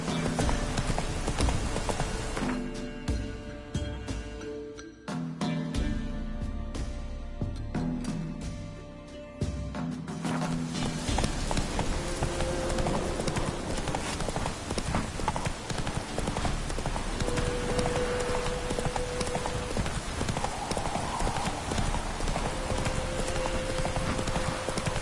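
A riding horse gallops in The Witcher 3 video game with fast, continuous hoofbeats. Game ambience and music run alongside for about twenty-five seconds, with a brief quieter stretch early on.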